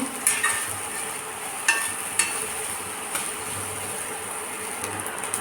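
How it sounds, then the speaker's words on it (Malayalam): Boiled soya chunks being stirred in a frying pan, with a soft steady sizzle and intermittent scraping clinks of a spoon against the pan, fairly quiet and without talk. "ഇതിലേക്ക് സോയ ചങ്ക്സ് വേവിച്ചത് ഉപ്പിട്ടിട്ടാട്ടോ നമ്മൾ വേവിച്ചേക്കണ ഇതിലേക്ക് ചേർത്ത് നന്നായി ഒന്ന് മിക്സ് ആക്കിയിട്ട് ഡ്രൈ ആക്കാട്ടെ"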